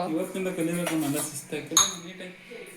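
A young girl washes dishes standing on a chair, utensils and pots clinking and knocking in short bursts, one sharper clatter partway through, under steady nearby conversation.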